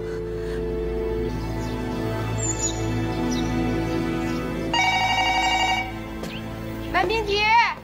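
A telephone rings in a home setting, its bell tone steady and fairly loud beneath a continuous low hum, followed by a short burst of chirpy high sounds near the end.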